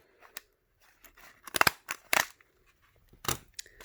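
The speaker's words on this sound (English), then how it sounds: "I'm going to close it up, and I'm going to go ahead and staple all the way." A paper rice shaker is stapled shut, giving a few close, sharp crunching snaps of the stapler at irregular intervals, mixed with quieter paper rustling and handling, with no speech.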